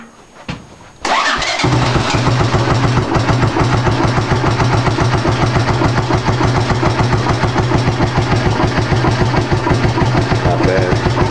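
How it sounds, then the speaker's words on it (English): An ATC three-wheeler engine cold-starts after a short crank, then settles into a steady, loud, close idle with an even pulsing beat that runs on without talk. "Suppose you guys want to see a cold start."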